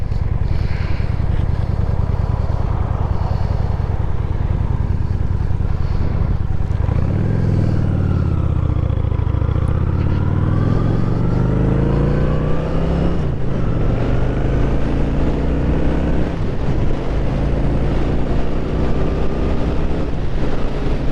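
A 2023 Honda Shadow Phantom motorcycle being ridden, its engine note dropping and climbing through gear shifts while heavy wind rush buffets the microphone throughout, with no talking.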